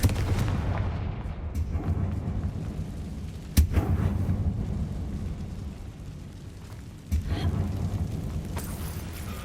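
Confringo spell blasts in the video game Hogwarts Legacy land as deep booming explosions, one sharp blast midway and another later, over a rumbling low background.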